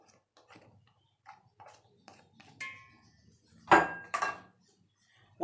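Tomatoes and carrots drop into a pot holding lentils and onion, giving scattered soft knocks and a couple of louder clattering thuds, close and intermittent in an otherwise quiet kitchen.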